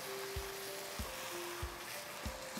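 Fried cauliflower tossed in a pan with pepper, a steady quiet sizzle beneath four soft rhythmic thuds from the tossing, close up with no talking.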